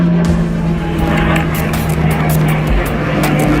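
Two military warplanes flying overhead at Kiwirok, Papua, a loud continuous engine roar with a strong steady hum that fills the whole stretch, alongside sharp clicking noises.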